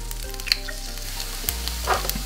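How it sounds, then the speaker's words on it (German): Eggs being stirred into rice in a frying pan: a close, steady sizzle with a low hum underneath, broken by a few sharp clicks and scrapes of the utensil against the pan. "Und rührt das jetzt einfach unter das Ganze"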